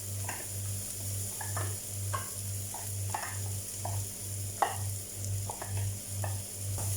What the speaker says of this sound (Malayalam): അരപ്പിട്ടിട്ട് 2 മിനിറ്റ് ഇങ്ങനെ ഫ്രൈ ചെയ്യണം.